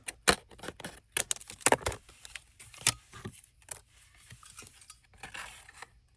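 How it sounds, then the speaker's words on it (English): Scissors snip through paper while cutting whale tail craft tabs: a run of sharp, close clicks and crisp snips crowds the opening seconds, then the cuts thin out into softer, scattered rustles with no one talking. "Let's give this a little bit of a cut here."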